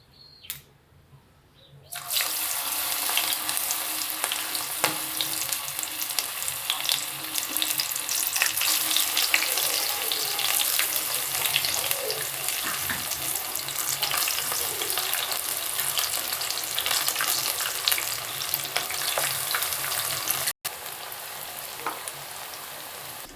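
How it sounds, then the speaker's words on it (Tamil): Banana stem vadas, patted out on a banana leaf, are dropped into hot oil. A dense, continuous sizzle and bubbling starts after a brief quiet moment and carries on loudly to the end. "வடையை தட்டி போட்டுக்கலாம் வாழை இலையில்."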